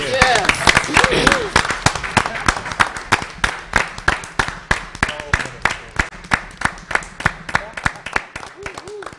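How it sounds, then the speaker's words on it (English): A room full of people at a school board meeting claps in a round of applause, dense at first and then thinning into sharp, rhythmic, evenly spaced claps, close and loud, with some voices underneath. "So that deserves a round of applause."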